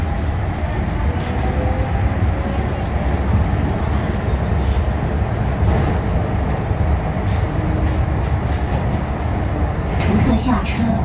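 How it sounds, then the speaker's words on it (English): A Hong Kong metro train rolls into a station, a steady loud rumble and roar filling the platform, with a station announcement heard over the noise. "The train is approaching"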